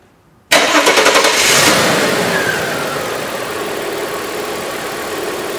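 VW Passat / Audi A4 engine with a secondary air injection pump system starts after silence: a brief cranking stutter, a catch, then a loud settled idle that holds steady.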